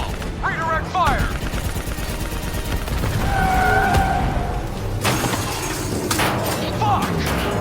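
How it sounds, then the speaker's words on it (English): Gunfire in the Call of Duty: Black Ops 3 battle, with loud dense bursts over steady combat rumble, sharp whistling projectile sounds and shouted voices nearby. "Nice fucking shooting!"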